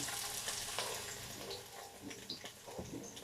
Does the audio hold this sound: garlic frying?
yes